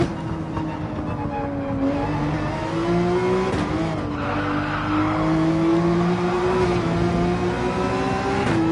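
A GT3 race car in a racing video game drives steadily with a sustained engine drone, pitch rising and falling through shifts and some tire noise, loud and continuous with no talk.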